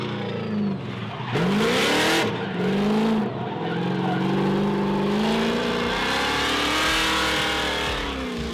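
A street car drifts with loud, close tire squeal and engine revving, the screech swelling and dipping in long sweeps over a steady engine drone.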